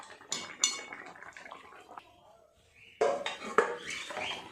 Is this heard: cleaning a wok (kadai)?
yes